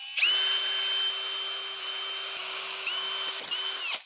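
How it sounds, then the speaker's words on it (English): Power drill boring with a dull, worn bit, a loud steady whine held for about four seconds with a couple of brief dips in pitch before it spins down. "Going backwards? Nope, that's just a horrible drill bit."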